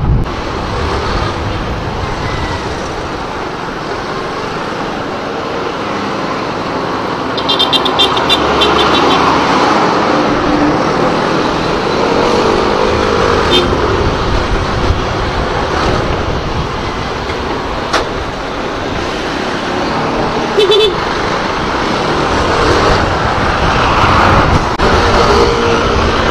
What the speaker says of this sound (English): This traffic, guys.